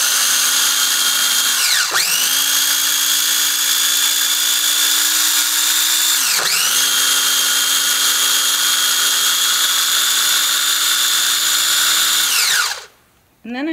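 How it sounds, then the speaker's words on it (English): Electric mixer whirring steadily as it blends a homemade pressed gel-to-powder eye shadow mixture, loud and close, with two brief dips in speed around two and six seconds before cutting off near the end. "So then I'm just gonna turn the mixer on."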